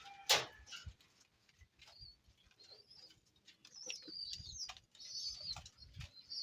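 Breeder pigeons in a loft coo softly while wings flap in brief bursts, with scattered chirps and rustles at close range and no talk.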